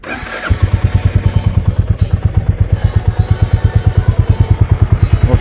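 A motorcycle cold-started on a mountain road, catching after a brief crank and then settling into a loud, close, steady thumping idle with regular rapid pulses.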